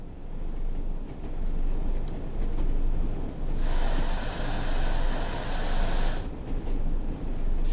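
A Class 101 diesel train in Train Sim World rumbles steadily, and a broad hissing burst of brake air rises midway, holds for a few seconds, then cuts off, loud and close with no talking.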